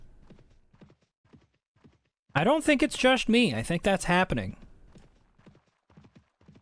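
A horse in Mount & Blade: Warband clip-clops with soft rhythmic hoofbeats at a walking pace, faint and steady, while someone talks loudly over it for a few seconds.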